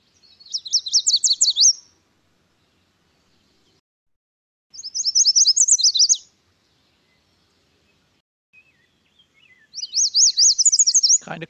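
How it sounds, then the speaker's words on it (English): Yellow warbler song: three bright, rapid whistled phrases, each about a second long, separated by pauses and sounding clear and fairly close against a quiet background. "the yellow warbler."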